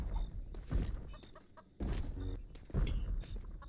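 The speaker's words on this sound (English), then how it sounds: "Wait, there's a chicken right here." Chicken clucking in the Roblox horror game, short bursts of clucks in three groups separated by brief pauses, close and fairly loud over a low background hum.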